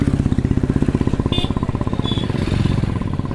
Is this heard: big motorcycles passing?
yes